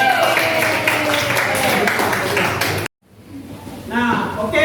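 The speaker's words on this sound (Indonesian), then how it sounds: "tepuk tangan dulu." Students in a classroom clap together in a burst of applause that stops abruptly, followed by quiet and then a teacher's voice resuming.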